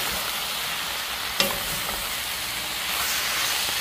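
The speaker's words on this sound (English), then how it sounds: "I add my beef back in. Give that a quick stir." Beef for pepper steak sizzles in a hot pan as it gets a quick stir, a steady close frying hiss with a single sharp clink of a utensil near the start, without talking.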